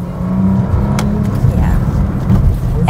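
A Bentley Continental GT Convertible accelerates hard, its engine giving a loud, steady, rising drone heard from inside the car, with someone talking over it.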